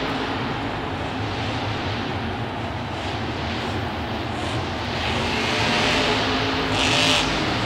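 A monster truck engine revs at a Monster Jam stadium event in Miami, a loud, sustained roar that swells toward the end against a broad crowd and arena din.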